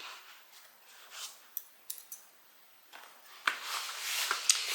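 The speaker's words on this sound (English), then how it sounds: "when we get to the bottom, we need to make a little snip." Scissors cut close-up through fabric while a tote bag is sewn, giving quiet shearing rustles and a few sharp metallic snips, the blades clicking louder near the end, with no talking.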